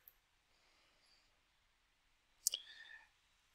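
A computer mouse gives a single sharp click at close range. Faint soft clicks and a quiet room surround it.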